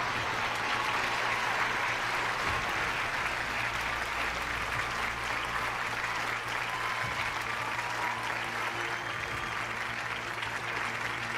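A darts crowd at the 2001 BDO World Championship applauds a streaker, with sustained loud clapping from a large audience that carries on evenly throughout.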